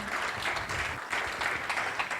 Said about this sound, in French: Kannst du für dich selbst applaudieren.